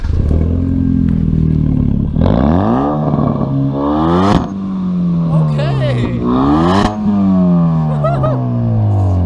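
Modified car with no muffler and an HKS blow-off valve cranks and starts, then revs hard in repeated loud, rising bursts up close, with talk mixed in between the revs.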